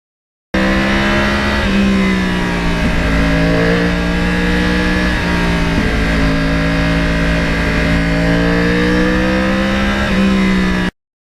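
Yamaha R1 sport motorcycle with a crossplane engine, 2009 model year, revving loudly and close for about ten seconds, an uneven rasping drone that rises and falls in pitch.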